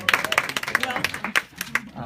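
Scattered clapping at a county Democratic central committee meeting, a few sharp separate claps with a voice talking over them.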